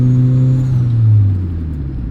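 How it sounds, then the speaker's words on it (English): A turbocharged 2003 Mazda Miata NB with a straight-pipe exhaust and one resonator accelerates, its loud droning exhaust note rising steadily and close up for about two seconds with no talk. "Exhaust is a lot louder than last time."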